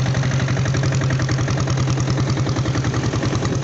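A company diesel Bullet motorcycle engine runs steadily at close range, its loud, even low thump pulsing in a regular rhythm throughout with no talk over it.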